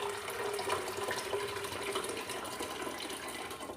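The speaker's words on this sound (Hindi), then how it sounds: "1 लीटर हम इसमें पानी डाल देंगे।" A litre of water poured into a pressure cooker of mung and masoor lentils makes a steady, close gushing stream that runs unbroken for several seconds, no talk over it.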